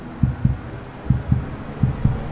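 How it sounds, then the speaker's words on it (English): A steady, muffled heartbeat thumps in low double beats, three pairs in about two seconds, played inside the Mercedes AVTR concept car, with a faint hum underneath and no talking. "You hear that? Little heartbeat."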